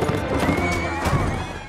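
A horse neighs in the Mount and Blade Warband video game, a loud, close whinny filling the whole short moment with faint hoof clatter beneath.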